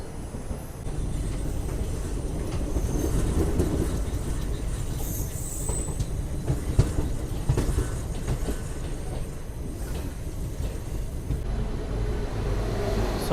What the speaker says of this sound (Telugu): మన ట్రైన్ వచ్చేసి గుంటూరు జంక్షన్ నుంచి అయితే బయలుదేరిపోయింది.